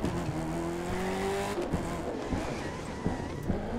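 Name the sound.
AI car driving and skidding in the video game The Crew 2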